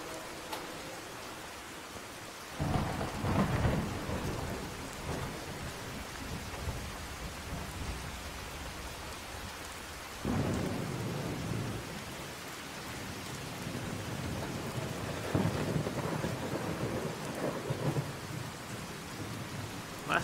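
Rain and thunder in the video game Fallout 4, a steady downpour hiss with several deep rolling thunder rumbles swelling in and fading, no talking.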